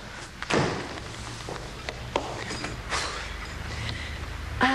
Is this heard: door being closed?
yes